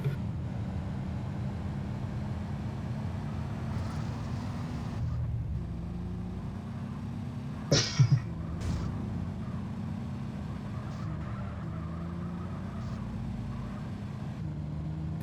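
A car driving in GTA San Andreas, a steady low engine drone continuing throughout, with a brief sharp thump around the middle, no talking.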